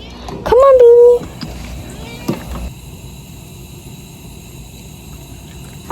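A cat outdoors on a humid day gives one clear, rising meow near the start. A few soft knocks follow, then a quiet steady background hum.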